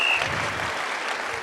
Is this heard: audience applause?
yes